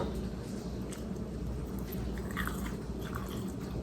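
Close-up biting and chewing into crispy Southern fried chicken, with quiet crackly munching sounds over a low background hum.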